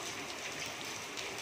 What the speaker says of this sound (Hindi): आज तो इंतहा की बारिश हुई है